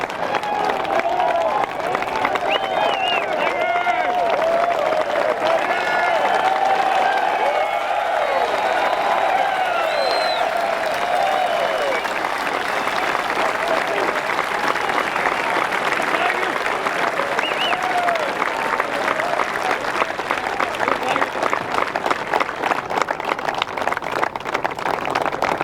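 A Masters Tournament golf gallery applauds a shot, with sustained clapping and scattered cheers from a distant outdoor crowd lasting throughout, while a commentator talks over it.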